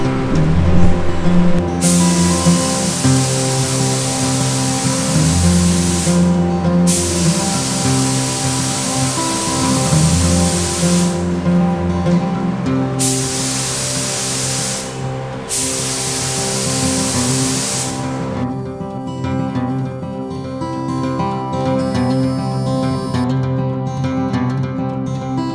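Spray painting a motorcycle frame from a Suzuki TS185 restoration inside a temporary paint booth with fans running: long steady bursts of spray hiss, cut by short pauses, over a continuous low fan drone with no talking.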